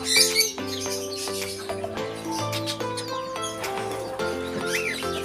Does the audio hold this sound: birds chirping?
yes